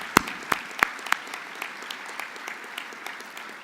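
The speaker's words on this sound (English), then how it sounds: "Let's give him a round of applause." Scattered applause at the Black Engineer of the Year conference, opening with a few sharp, distinct claps before settling into thin, moderate clapping from the audience.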